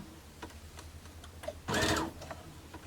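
A sewing machine stitches a quarter-inch seam with the presser foot down, giving a short, close burst of fast mechanical running that lasts under a second, set among quiet ticks and small handling noises.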